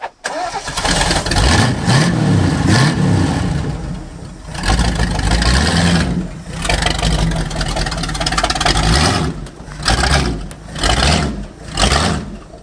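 A Continental engine from a barn find, running again after 35 years of storage, turns over at a very low, uneven idle, loud and close, with its throbbing surging and dipping several times.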